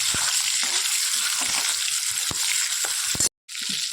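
Shrimp sizzling in a hot frying pan, a loud continuous crackling fry with a few stirring knocks and a brief sudden drop to silence near the end, with no talking.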